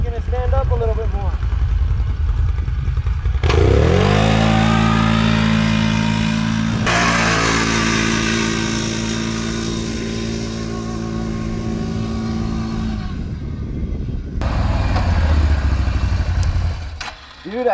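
Can-Am Renegade XMR 1000R and Polaris Scrambler XP 1000S ATVs, the Renegade in two-wheel drive, launching in a drag race; loud engines rev hard and pull away with rising whine, then fade as they recede, with people talking over it.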